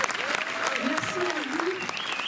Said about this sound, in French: je voudrais déjà avoir un tonnerre d'applaudissements pour l'équipe du cinéma Méliès et pour Rancard au Méliès